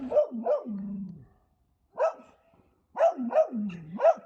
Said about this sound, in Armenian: Եթե երեկ նվնվում էր Ավրորան, այսօր հաչում այն բոլորի վրա։